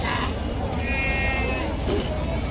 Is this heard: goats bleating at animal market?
yes